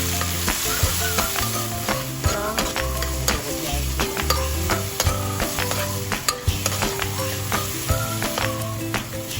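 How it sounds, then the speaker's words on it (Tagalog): Onion and garlic, then sliced tomatoes, sautéing in a little cooking oil in a pan, giving a steady close sizzle with scattered crackles and stirring clicks, with tonal music running underneath throughout. "Igisa ang sibuyas, isabay na rin ang bawang."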